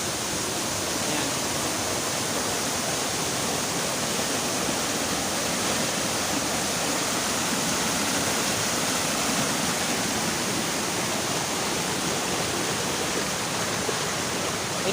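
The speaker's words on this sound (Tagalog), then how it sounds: "ang ganda ng waterfalls na yan" A waterfall on Biliran Island roars as a dense, constant rush of falling water, loud and unbroken from start to finish with no voices.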